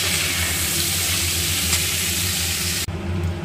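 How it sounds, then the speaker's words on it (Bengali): Potato and pointed gourd pieces fry in hot oil with salt and turmeric, a loud steady close sizzle that runs almost without a break and dips sharply near the end. "এবার এটা আমি হালকা ব্রাউন করে কিন্তু একটু ভেজে নেব"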